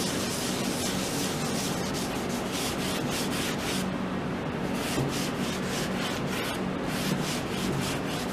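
A rag soaked in lacquer thinner is rubbed across an antique wooden table, making loud, close, continuous scrubbing and swishing strokes of dense hiss with a back-and-forth rhythm. No voices.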